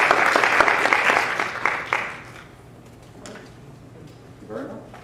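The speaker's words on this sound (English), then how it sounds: "let's go to another round of applause" An audience at a high school senior capstone presentation bursts into applause that is loud at first and dies out after a couple of seconds, followed by quieter room noise and a voice.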